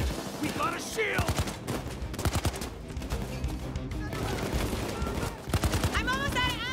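Rapid automatic gunfire rattles through a Payday 2 heist, with dense overlapping bursts, loud and close, while players shout over the shooting.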